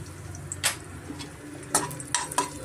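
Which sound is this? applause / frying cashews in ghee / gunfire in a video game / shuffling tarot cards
frying cashews in ghee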